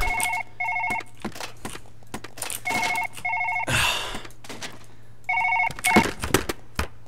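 An electronic telephone ring in the video game Surgeon Simulator repeats in short bursts, three rings separated by pauses, with a steady low hum underneath and a brief noisy burst between.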